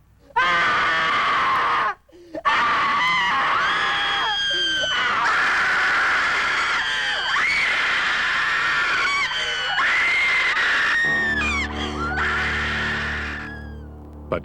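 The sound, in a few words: audience screaming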